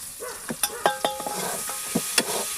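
Turmeric and chilli powder being sautéed in a pan: a soft sizzle underneath a handful of sharp scrapes and clicks of a spoon stirring against the metal, close and fairly quiet.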